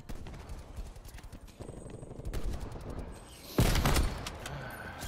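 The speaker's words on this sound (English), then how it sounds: "There's a man shooting at me" Gunfire in the Black Ops Cold War beta, rapid bursts of small-arms shots crackling at moderate distance, with a sharper, louder burst partway through amid game ambience.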